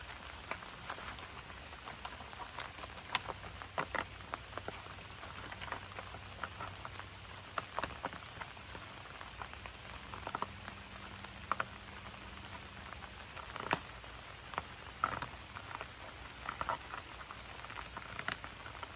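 Steady light rain patters on a surface, with scattered louder drips and taps throughout, fairly quiet and continuous with no voices.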